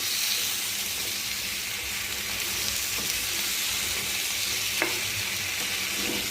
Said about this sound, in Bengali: এবার দেখেন আমার সবজিটা দিয়ে দিচ্ছি।